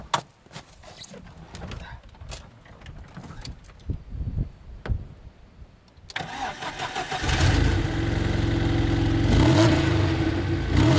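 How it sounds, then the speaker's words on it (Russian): Car engine cranking and catching after a walk through strong wind, then settling into a loud, steady idle; scuffing and handling noises and a door come first, with brief faint speech before the start. "Сейчас заведем машину пока."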